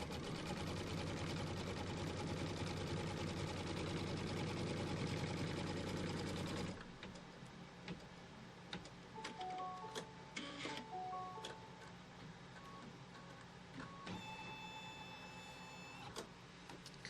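An embroidery machine tacks down a fabric strip in a hoop for a quilt block, with a loud, steady mechanical whirring for about seven seconds. It then drops to a quieter hum with scattered electronic beeps.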